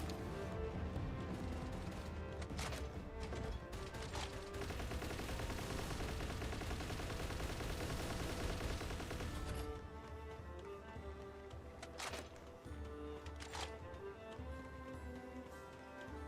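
Gunfire in the video game Palworld: dense, sustained bursts of rapid shots blend into a continuous roar for several seconds, then thin out into scattered single shots and impacts over a game soundtrack.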